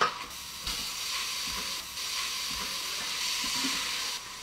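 Chopped onion sautés in an Instant Pot for Korean beef, a steady close sizzling hiss that runs evenly throughout with faint stirring knocks underneath.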